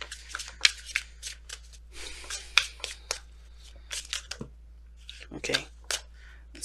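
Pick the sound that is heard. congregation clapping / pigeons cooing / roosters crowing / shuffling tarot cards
shuffling tarot cards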